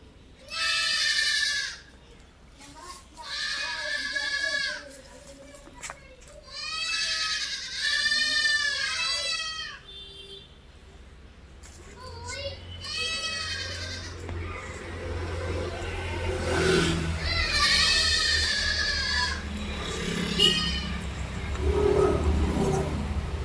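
Goats bleat repeatedly at a livestock sale, several loud nearby calls in bursts, with a lower rumbling background growing in the second half.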